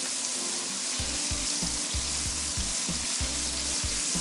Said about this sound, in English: Everybody's excited that I'm frying them.